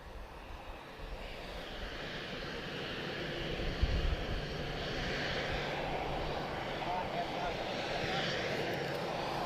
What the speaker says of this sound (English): So, EasyJet Switzerland, she's off to Geneva, guys.